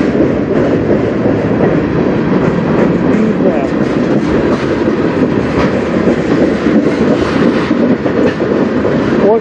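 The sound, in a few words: CN manifest freight train passing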